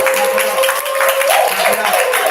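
Audience clapping at a live community event in Atlanta as a guest is welcomed to the stage, a steady burst of applause under a voice urging the crowd on.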